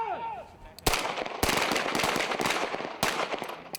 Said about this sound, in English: As his muzzle was still lifting up, he's pulling that trigger again